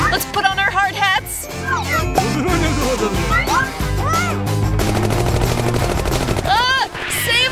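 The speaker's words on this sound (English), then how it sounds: "They're shooting us down!" Rapid machine gun fire sound effect in an animated food-challenge cartoon, mixed with excited cartoon voices and music throughout.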